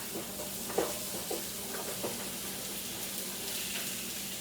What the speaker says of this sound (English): So I'm just going to saute it. I've got about a tablespoon of butter here in my skillet.